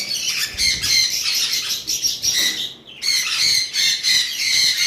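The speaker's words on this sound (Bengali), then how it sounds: "এখানে একটা ক্রিমসন বেলি কুনুরের নর আমার কাছে রয়েছে" A male crimson-bellied conure gives loud, harsh squawks and screeches in quick bursts, close by, with a brief pause midway before the calls resume.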